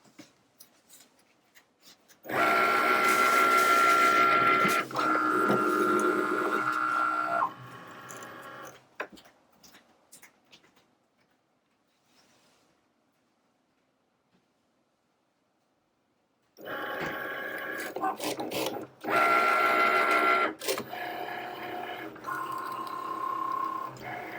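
A craft cutting machine cuts mirrored heat transfer vinyl in two loud bursts of whirring, buzzing carriage motion, separated by a long near-silent pause.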